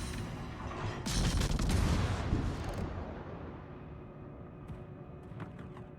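Ship guns fire in World of Warships as a Kotovsky engages enemy ships, a heavy booming salvo swelling then rumbling away into a long fading tail, with faint cracks near the end.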